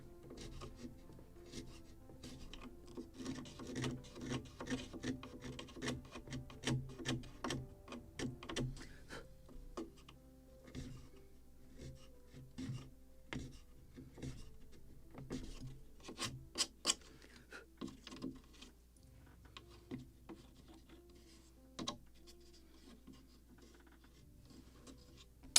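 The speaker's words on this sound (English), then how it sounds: "Just sand this end." Sanding the end of a wooden part for a model of the 1776 gunboat Philadelphia, producing close, steady rasping strokes in quick repeated bursts that continue throughout without any speech.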